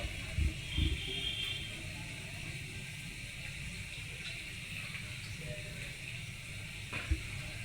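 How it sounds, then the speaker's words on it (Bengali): Spice paste for a pointed gourd and prawn dish is stirred and fried in a pan, giving a soft, continuous low sizzle with a few faint spoon scrapes and knocks, no talking. "এইবার পেস্টটাকে ভালো করে নাড়াচাড়া মতন করতে লাগলাম, যতক্ষণ না কষা কষা হয়"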